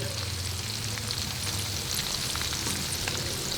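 Pork fat fries in a pan with a dense, constant, crackling sizzle that stays close and loud throughout.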